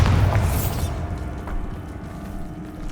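A loud, deep Bombarda spell explosion in Hogwarts Legacy, booming at the start and rumbling away over the next seconds, with faint mechanical rattles after; no talk.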